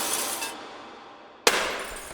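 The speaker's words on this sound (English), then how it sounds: "I beefed up our snare by using the baseball glove and the glass breaking" Glass shattering sample layered into a snare hit in a beat, two bright crashing bursts, the first fading over half a second and a second sharp impact near the end.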